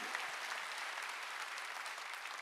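A congregation at a Sunday church worship service applauds together, a dense, even clatter of many hands clapping that continues without pause.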